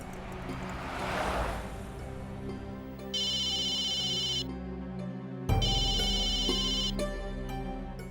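Phone ringtone playing in two bursts of tonal repeating trills during a tense night scene, with background music underneath and no talk.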